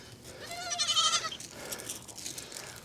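Homestead goats bleat in a couple of wavering calls, moderately close and loud, over faint outdoor background with no talking.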